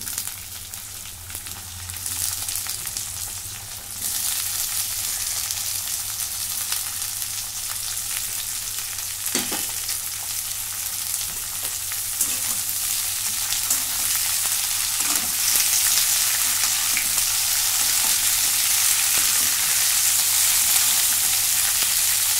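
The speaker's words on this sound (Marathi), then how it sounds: "आता 2 मिनिटं कारले चांगले परतून घेते." Chopped bitter gourd stir-fried with onion in a pan makes a steady, loud sizzle that runs alone the whole time, with a few faint scrapes of stirring.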